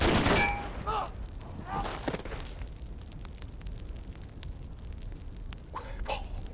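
Gunfire from a sniper rifle cracks sharply at the start and in scattered bursts afterward, some distant pops under a noisy background.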